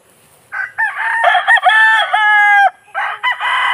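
A gray gamefowl rooster, a three-way cross, crows loudly and close by. One drawn-out crow rises and holds before breaking off, with short clucks around it and a brief call at the end.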